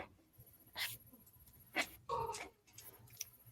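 A dog whimpers indoors in a few short, separated whines and breathy sounds, fairly quiet with no talking.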